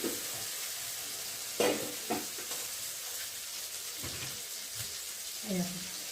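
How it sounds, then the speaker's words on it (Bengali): Chicken is stirred into cooked-down spice masala in hot oil, making a steady close sizzle with several scraping and clinking stirs across the pan. "চিকেনটাকে দিয়ে ভালো করে আরও কষিয়ে নেব"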